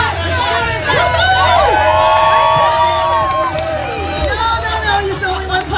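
A lively crowd at a pie eating contest cheers and shouts loudly and continuously, with high excited voices, whoops and overlapping yells close by.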